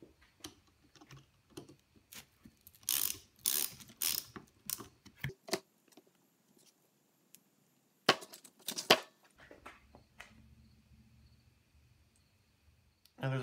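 A bracket comes off the spindle of an Atlas 73 drill press during restoration, with a run of close metallic clicks, ratcheting and tool clatter in bursts, then a quieter stretch with a low hum.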